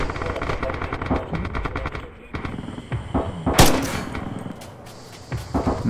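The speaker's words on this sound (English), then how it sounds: "there is MG" Rapid machine gun bursts in the Red Orchestra 2 video game, loud, close rattling volleys with a sharp metallic crack partway through, mixed with other battle noise and a voice briefly in the background.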